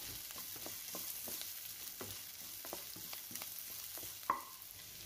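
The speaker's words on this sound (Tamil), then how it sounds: "இந்த ஆயிலில் இந்த வெங்காயத்தை நல்லா வதக்கிக்கலாம்" Onion with curry leaves sautéing in oil: a soft, faint, continuous sizzle broken by rhythmic scraping stir strokes about every half second, plus a single sharper clink near the end, with no talking.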